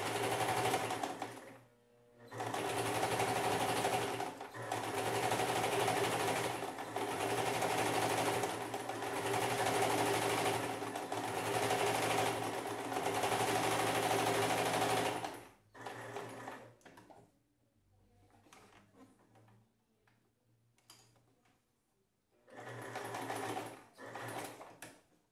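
A sewing machine running a straight stitch with white thread on a dish towel, long steady whirring runs close by, broken by short stops and a quieter gap before a final burst.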